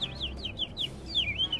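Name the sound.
person imitating bird noises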